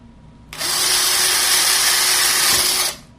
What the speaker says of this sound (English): once it's spinning, you can't see the serrated part of the drill bit